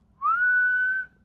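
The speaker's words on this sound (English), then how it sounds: "that's a person whistling" A single sustained whistle from a person in the woods around Kenosha, one clear rising-then-level tone lasting about a second, alone in quiet.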